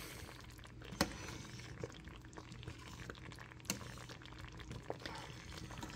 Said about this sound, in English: we are finally at a boil